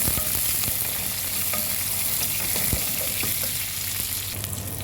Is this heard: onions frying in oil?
yes